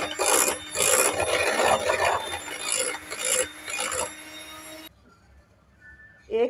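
Basbousa batter with two tablespoons of yogurt is beaten by hand in a bowl, giving steady rasping, scraping strokes for about five seconds before stopping abruptly, followed by quiet.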